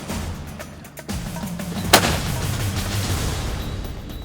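A single sharp rifle shot cracks once near the middle, fired at a blackbuck on a Texas hunt, with outdoor rumble and wind noise before and after it.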